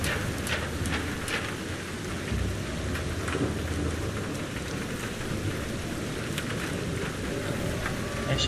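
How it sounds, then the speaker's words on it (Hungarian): Rain in the video game Primal Carnage Extinction, a dense steady hiss of heavy rainfall with scattered crackling drops and low rumbling beneath, continuous and fairly loud with no talking. "Esik az eső."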